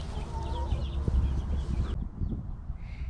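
Backyard laying hens clucking quietly, soft short calls with a low rustling background and no one talking.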